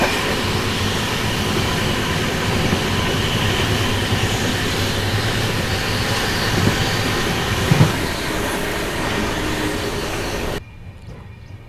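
Train 17423 Tirupati–Chikkamagaluru on its first run near Chikkamagaluru, a steady loud rumble of wheels on rails heard from aboard, with rhythmic clatter and a brief louder clank before it cuts to quieter hum.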